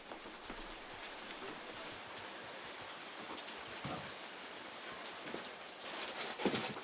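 Steady rain falls on a farm with muddy ground, a soft continuous hiss of drops with a few brief louder splashes near the end and no one speaking.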